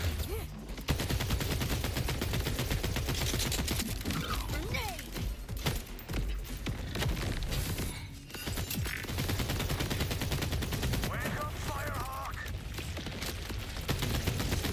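Sustained rapid gunfire from a weapon in the video game Borderlands 4, dense bursts of shots continuing almost unbroken alongside explosions, mechanical clatter and game effects, with a player's voice occasionally over the action.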